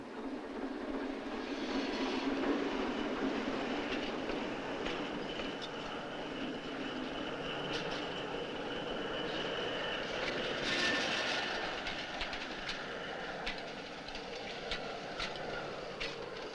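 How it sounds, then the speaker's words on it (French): A shunting locomotive works at a railway hump marshalling yard. Its engine drones steadily at a moderate distance for the whole stretch, with faint metallic clanks and no voices. "un locotracteur termine le débranchement d'un train et se dirige vers le faisceau de réception pour aller chercher une autre rame"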